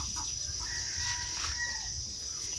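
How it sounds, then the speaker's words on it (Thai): Chickens cluck and a rooster crows on a rural Thai farm, with close, busy fowl calls over a low steady background rumble. "ให้ไก่มันออกมา"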